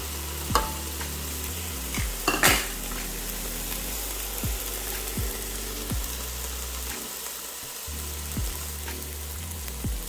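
Celery and onion frying with meat in a pan, a steady sizzle broken by repeated scraping knocks of a utensil stirring roughly every second, close and fairly loud with no voices.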